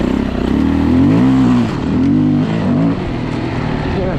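A Yamaha WR450F motorcycle engine warming up after repair, idling loud and close with a couple of revs rising and falling before settling back to a steady idle.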